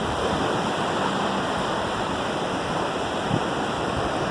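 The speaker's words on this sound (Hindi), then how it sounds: "और पानी आई है, देखें आप, देखें लहर।" Sea waves at Gadani Beach, Balochistan, wash in as a steady, loud broadband roar of surf and rushing water that continues without break throughout.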